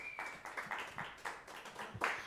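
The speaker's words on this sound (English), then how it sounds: "So let's have a round of applause real quick for all of our members." A small audience at a live music evening gives a brief round of applause, with a handful of sparse, uneven claps rising and falling before a slightly louder burst near the end.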